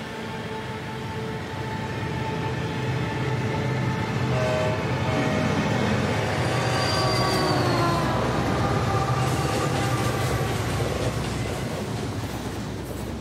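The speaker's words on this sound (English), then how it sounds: "I think there might be a train coming." A train rolls steadily past with a continuous rumble and high metallic wheel squeals rising and fading, loud and close throughout, no voices.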